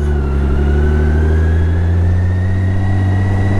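A BMW K1600 Grand America six-cylinder touring motorcycle cruises on a freeway, a loud steady engine drone with strong low harmonics rising slightly in pitch as it accelerates, under wind noise.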